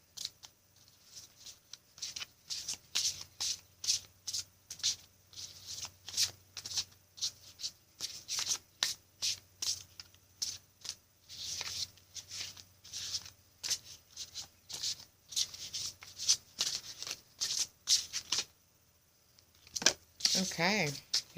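Butterfly Oracle cards for Life Choices being shuffled by hand in quick repeated riffles and slaps, close and crisp, with a short pause before a final flurry of shuffling.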